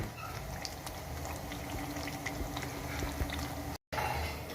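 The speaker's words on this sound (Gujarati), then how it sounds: "હવે એને આ જ રીતના આપણે ધીમા ગેસ પર તળી લેવાની છે।" Crispy kasuri methi puris fry in oil over a low gas flame, making a soft, steady bubbling and faint sizzle close by.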